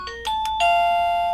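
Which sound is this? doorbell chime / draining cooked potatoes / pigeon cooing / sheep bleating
doorbell chime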